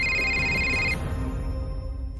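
A telephone rings with a steady electronic trill for about a second and then cuts off, leaving a low background hum in a quiet indoor setting.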